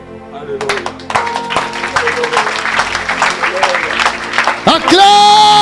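A church congregation at a lively worship service breaks into applause and clapping, loud and sustained over music-like tones, with a preacher's voice and shouts rising above the crowd.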